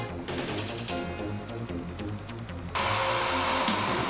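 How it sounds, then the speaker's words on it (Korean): An electric chainsaw cuts into thick, layered icicles, a steady close motor drone that grows louder and harsher partway through as the blade bites deeper. "겹겹이 얼어버린 두꺼운 고드름을 전기톱을 사용해 잘라냅니다."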